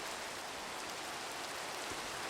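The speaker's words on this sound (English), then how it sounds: "Now it's gonna rain." Steady rain pouring in Minecraft Skyblock, a dense, even hiss of falling drops that stays constant and fairly close throughout, with no voices.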